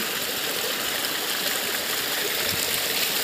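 A small waterfall flows steadily with murky, dark water, its broadband rush continuous and close throughout with no voices.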